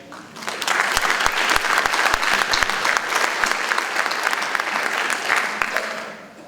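Sustained applause from a crowd, dense steady clapping that holds loud for several seconds before tapering slightly at the end.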